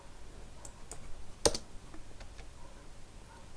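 Quick clicks of number keys typed on a computer keyboard, a short burst of several keystrokes with one sharper tap standing out, close and fairly quiet, with no voices.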